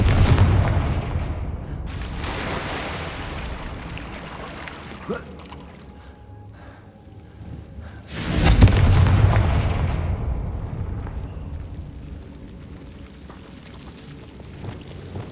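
Confringo blasting curse explosions in the video game Hogwarts Legacy, two heavy booming blasts about six seconds apart, each rumbling and fading slowly over a low ambient game backdrop.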